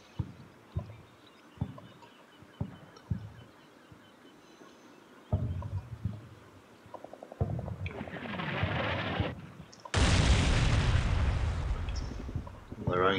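Artillery barrage in a video game: scattered deep booms and thumps early on, then heavier rumbling blasts building into a loud, sustained roar of explosions near the end.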